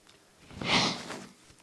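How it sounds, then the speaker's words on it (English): Person blowing their nose during a mathematics lecture, a single breathy honk swelling and fading in the middle, fairly faint in a quiet room. "let's just put this while I blow my nose"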